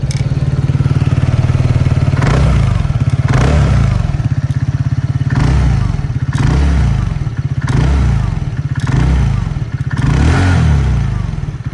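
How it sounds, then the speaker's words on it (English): A TVS NTORQ 150 scooter revs repeatedly, its exhaust rising and falling in about five loud, close throttle blips over a steady idle, with no talk. "is the exhaust note of the all-new TVS NTORQ 150"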